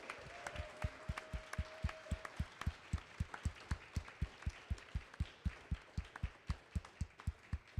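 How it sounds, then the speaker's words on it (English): Audience applause at an evening gamedev meeting celebrating recently graduated students, heard as a steady run of sharp, evenly spaced claps that continues at a moderate level throughout. "let's have a round of applause for their accomplishments"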